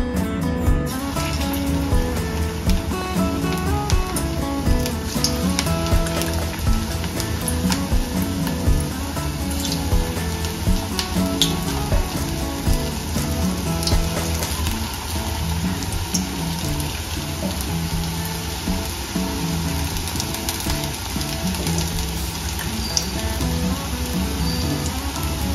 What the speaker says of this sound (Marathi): तर आता आपले तेल गरम झालेलं आहे. आपले भजी तळण्यासाठी तयार आहेत. तर आपण भजी सोडूयात त्याच्यात.